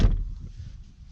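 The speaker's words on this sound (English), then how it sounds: "Shut this door" A single solid thud of a 2018 Ford Mustang EcoBoost's door shutting, followed by a low, muffled hush inside the cabin.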